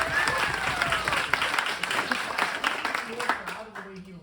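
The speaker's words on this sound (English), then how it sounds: "It's okay to clap." An audience claps for a Brazilian jiu-jitsu black belt promotion at a gym, the applause swelling and then tapering off to quiet, with a voice speaking over it.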